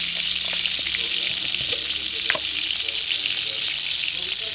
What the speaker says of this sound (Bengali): এই মাছ ভাজার তেলে আরেকটু সাদা তেল দিয়ে দিলাম।